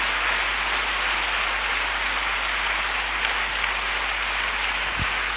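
Church congregation applauding and acclaiming Jesus during a worship service, a dense, sustained wash of clapping, loud and steady without break, with a low constant hum underneath.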